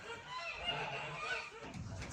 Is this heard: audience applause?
no